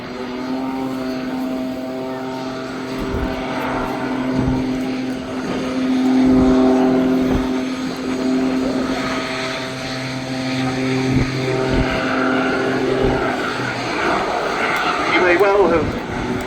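Rich Goodwin's jet-assisted Pitts aerobatic biplane roars loudly while hovering at the Duxford Summer Air Show, a sustained engine drone that swells and fades, heard under commentary.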